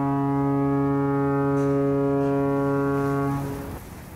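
A foghorn blows as a sound effect in an audio drama, one loud, long, steady low tone with rich harmonics that holds for over three seconds before cutting off, leaving faint background noise.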